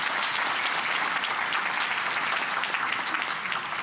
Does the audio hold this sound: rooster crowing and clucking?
no